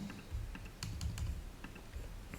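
Quick, light keystrokes on a computer keyboard while logging in to a software testing tool, a rapid irregular run of soft taps, close and quiet against faint room hiss.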